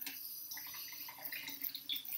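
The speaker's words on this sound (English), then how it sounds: "I'm just going to turn the tap on" Water runs steadily from a turned-on sink tap during makeup brush cleaning, a faint, even hiss with a few splashy flickers, no voices.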